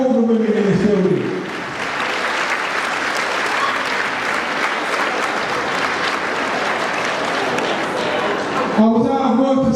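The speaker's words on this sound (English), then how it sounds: "Please, clap all the women in this building." An audience at a comedy show breaks into loud, sustained applause that fills most of the clip. A performer speaks briefly before the clapping starts and again as it fades.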